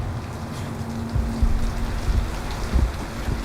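Heavy rain pours down on a street where a shop is set up, giving a dense, continuous hiss. Low thuds and rumbles rise and fall beneath it.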